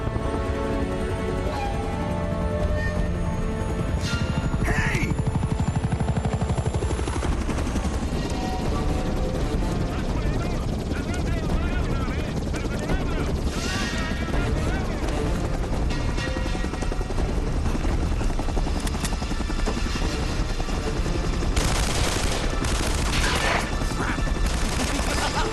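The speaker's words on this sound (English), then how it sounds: "Navarro loads El Dorado onto a helicopter and takes Elena with him" A helicopter in the video game Uncharted: Drake's Fortune roars loudly and continuously under bursts of gunfire and crashing action, a dense, unbroken wall of game sound with no voices.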